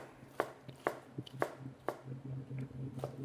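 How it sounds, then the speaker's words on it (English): A knife chops down through an onion on a cutting board in a kitchen, sharp regular cuts roughly every half second, close and clear, with a low steady hum underneath. "Okay, we get the onion. We cut down like this"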